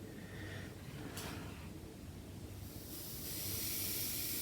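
An airbrush sprays paint onto a 1/72 Airfix de Havilland Mosquito B.XVI model, giving a faint, steady hiss that brightens and grows slightly stronger toward the end.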